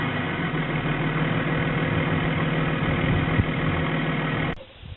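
A BMW 325d diesel with a blue-smoke fault idles steadily after starting, an even low mechanical rumble and clatter held close, cutting off abruptly near the end.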